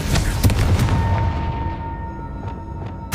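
A Confringo fire spell in Hogwarts Legacy bursting with a loud boom that rolls off into a long fading rumble, followed by a few fainter hits and a sharp crack right at the end.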